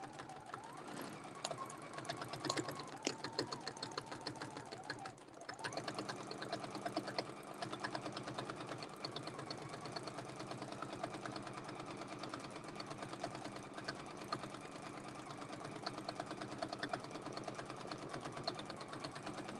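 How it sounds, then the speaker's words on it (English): A sewing machine stitches steadily along a quilting template, its rapid mechanical needle rhythm continuous and close for the whole stretch, with a brief dip partway through. "I'll just keep stitching. And I can do this the entire way across my quilt."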